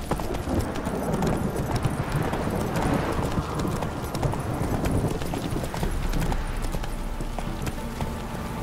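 Roach, Geralt's horse in The Witcher 3, gallops steadily with a rapid, continuous clip-clop of hooves that stays loud and close throughout, with no talk over it.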